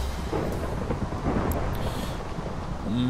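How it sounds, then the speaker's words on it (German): Rumbling Minecraft thunder rolls through a rainstorm in the video game, a loud, dense low roar with steady rain hiss throughout. "Nicht nur das Regnen, sondern auch gleich noch das Donnern."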